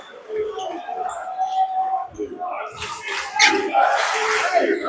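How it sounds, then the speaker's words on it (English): A crowd cheers in a high school gym during a boys basketball district semifinal, Upper Dublin vs Holy Ghost. The roar swells loudly in the second half under an announcer's voice. "Able to get the crowd back into it."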